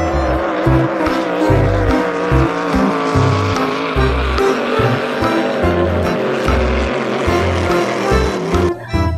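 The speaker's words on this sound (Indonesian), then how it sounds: "Yang ini mobil balap F1" A toy F1 race car gives off a loud, continuous electronic engine-and-racing sound with a pulsing, rhythmic low beat and a steady tonal whine, running unbroken and close throughout.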